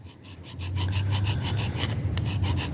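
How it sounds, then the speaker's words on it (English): A hand file rasps across the edge of an engine piston in quick, even back-and-forth strokes, close and fairly loud, with no talking. "Just got a hand file, kind of filing the piston."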